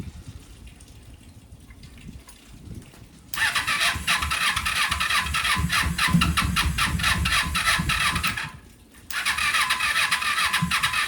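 A Kawasaki Eliminator 250 motorcycle being revived is cranked over, a starter churning with a rapid whirring rhythm after a quiet moment, cutting out briefly, then cranking again, close and loud with no voices.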